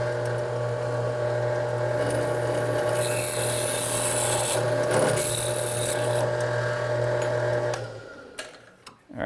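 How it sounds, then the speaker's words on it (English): A power drill whines steadily while boring into aluminum, a sustained grinding buzz that cuts out near the end, followed by a few light clicks. "We'll take this out and drill it."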